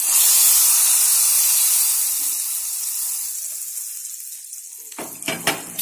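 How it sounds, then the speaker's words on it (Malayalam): Hot chilli masala tempering poured into a Kerala-style mackerel curry with ground coconut, bursting into a loud close sizzle and hiss that slowly dies down, followed by a few sharp spattering crackles at the end; no one speaks. "ഇനി ഇത് നമുക്ക് നമ്മുടെ കറിയിലേക്ക് ഒഴിക്കാം."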